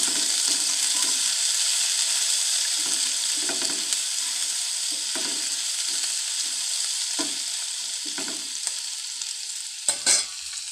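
Garlic being stir-fried in oil in a pan for a Bengali potol dim (pointed gourd and egg) dish, a steady close sizzle broken by repeated scraping stirs and a sharper clatter near the end.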